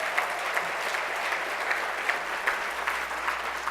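A crowd at an MLK breakfast keynote gives steady, full applause, with dense clapping holding at an even loudness throughout.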